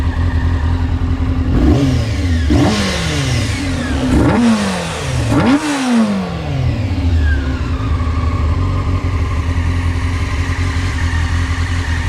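A Honda CBR 600 F4 motorcycle, running again after a long layup with valve, carburettor and timing work, revs hard four times in quick succession, each rise and fall loud and close, then settles into a steady idle.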